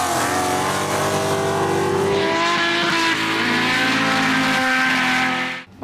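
A muscle car on a drag strip at a muscle car challenge event makes a loud, sustained engine roar with tire squeal as it launches and accelerates down the eighth-mile, then cuts off abruptly at the end.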